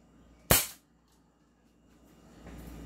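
A single sharp crack from an airsoft Magnum revolver fired close by, loud and abrupt, followed by near silence and a faint rising background rustle.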